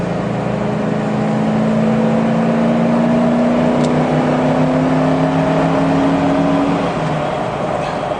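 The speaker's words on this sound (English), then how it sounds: "I will hammer down on a little bit rather than going slow like it was before" A car engine pulls hard up a steep hill, its steady drone rising in pitch as it accelerates and then settling after an upshift, loud and close throughout with no talking.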